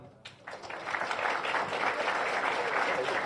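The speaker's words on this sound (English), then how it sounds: "And a biggest round of applause to welcome all of our friends from around the world" A conference audience of pilots and guests breaks into applause after a short lull, the clapping growing into a broad, sustained roar that holds to the end.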